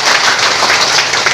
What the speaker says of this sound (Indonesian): awak minta turun tepuk tangan untuk Fauzi Haji Amro